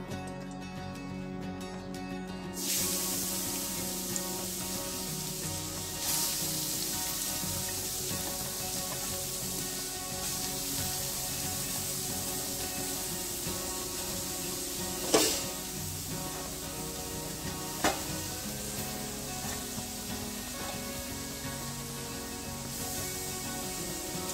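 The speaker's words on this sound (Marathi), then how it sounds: "तूप गरम झाला आहे, आता आपण त्यामध्ये किसलेलं गाजर टाकणार आहोत" Grated carrots sizzle and fry in hot ghee for gajar halwa, a steady close hiss running throughout with occasional stirring scrapes and small sharp pops, no voices.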